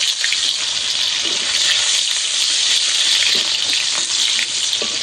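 Chopped onion with five-spice frying in hot oil, a loud, close, unbroken sizzle with crackling spits and faint scraping stirs throughout.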